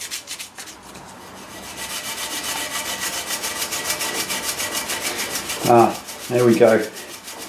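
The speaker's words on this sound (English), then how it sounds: "So with an abrasive scotch pad, it is getting at it now." Steel scrubbed with an abrasive scotch pad and Harpic, a rhythmic close rubbing and scraping that builds steadily, with someone briefly speaking near the end.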